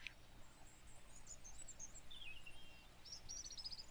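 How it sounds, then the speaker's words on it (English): Birdsong in the stealth survival game Sir, You Are Being Hunted: several thin, high chirping phrases and short trills come and go over a soft, steady outdoor ambience, fairly faint and with no talking. "Birds are singing."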